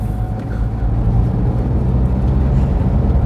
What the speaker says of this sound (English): That's the first gear change.